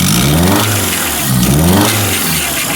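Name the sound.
2001 Honda Accord engine running rough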